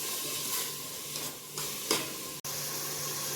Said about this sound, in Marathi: टोमॅटो आणि कांद्याला तेल सुटेपर्यंत परतून घ्यायचं.